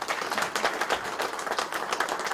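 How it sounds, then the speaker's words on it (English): An audience applauds at a political community event with the Conservative Party of Canada leader, producing a dense, continuous patter of many hands clapping at moderate distance for a couple of seconds. "Big round of applause."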